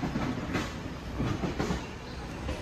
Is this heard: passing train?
yes